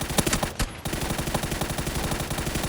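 Automatic rifle spray in PUBG, a rapid steady burst of dozens of evenly spaced gunshots, loud and continuous, broken only by a brief pause near the start.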